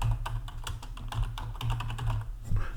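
Fingers type on a computer keyboard in rapid, irregular bursts of close, crisp clicks over a low steady hum, with no talking.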